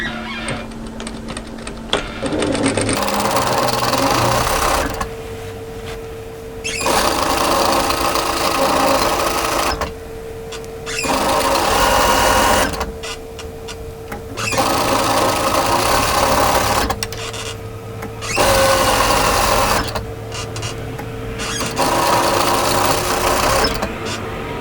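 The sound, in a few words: sewing machine stitching with twin needle or cover stitcher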